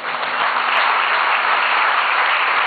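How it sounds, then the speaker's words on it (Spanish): Loud, dense applause from a crowd fills the whole stretch at an even, sustained level with no pauses. "les pido un aplauso muy fuerte para ella."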